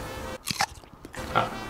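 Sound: cat eating

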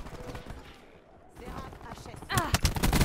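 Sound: gunfire in Call of Duty Black Ops 4 video game

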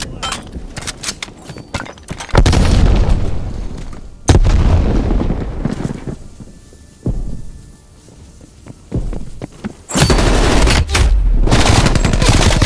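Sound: frag grenade thrown in the video game Call of Duty: Black Ops Cold War

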